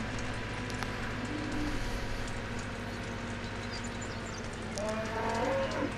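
Cattle moo in Farming Simulator 17, a farming video game on PS4, with a drawn-out low call rising near the end over a steady, droning game ambience.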